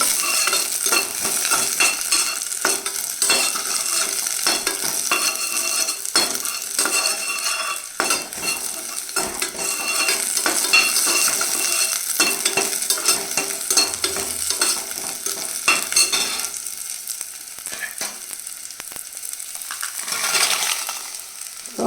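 Red chillies and curry leaves dry-roast in a pan for curry leaf idli powder, with steady scraping and clinking as a spatula stirs, a light crackle underneath and no talking.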